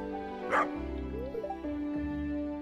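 A dog in the video game Stardew Valley 1.4 (modded) gives a short excited bark and a few yips over steady game music.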